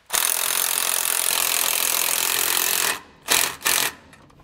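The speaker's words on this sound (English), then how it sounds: "So now we'll just snug these up down here using our 9/16 socket." A ratchet fitted with a 9/16 socket snugs down bolts while installing SumoSprings Maxim helper springs on a 2005 vehicle, giving a steady, loud grinding rasp for about three seconds, then two short bursts of cranking.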